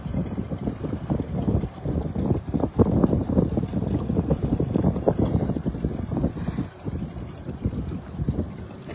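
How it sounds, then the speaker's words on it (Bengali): A small boat seating six to eight cruises across Lake Naivasha, its steady engine and water rush blending with strong wind buffeting the microphone throughout, with no voices. "লেক নাইভাসাতে এখন আমরা বোটিং করছি"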